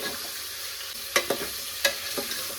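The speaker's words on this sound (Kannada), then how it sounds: "ಇವಾಗ ಮಟನ್ ಹಾಕೊಂಡಂತ ನಾನು ಇದನ್ನ ಮಿಕ್ಸ್ ಮಾಡ್ಕೊಳ್ತಾ ಇದ್ದೀನಿ" Mutton pieces frying and stirred in hot oil in a pan for a mutton gravy, a steady soft sizzle broken by a few sharp scraping clatters of the spoon, close and alone without talk.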